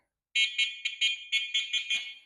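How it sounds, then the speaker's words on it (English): A Chinese three-wheel golf cart's electric horn sounds eight short, shrill beeps in quick, slightly uneven succession, loud and close with no talking. "And then you got a horn."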